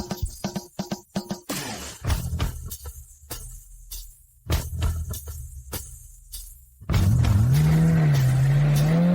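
A 12-valve supercar engine, first heard as sharp bursts and a blip of revving, then a loud sustained rev that rises and wavers near the end.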